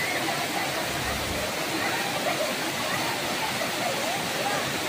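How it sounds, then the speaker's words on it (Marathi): Bhivpuri waterfall near Karjat in the monsoon, a steady broadband roar of falling water that holds evenly throughout at moderate level, with no voices. "भिवपुरी धबधबा पावसाळ्यात भेट देण्यासाठी एक आदर्श ठिकाण आहे"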